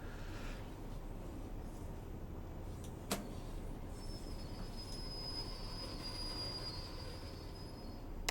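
A 1938 tube stock train on the Bakerloo Line in Train Sim World 2 brakes. A steady rumble of wheels runs throughout, with a sharp click partway and then a long high-pitched brake squeal.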